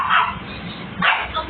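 A dog barks nearby in a couple of sharp bursts against a quiet indoor background.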